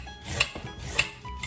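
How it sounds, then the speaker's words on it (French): Short scraping strokes of a peeler against a carrot, two sharper rasps standing out, quiet and close with no voices. "On épluche une carotte"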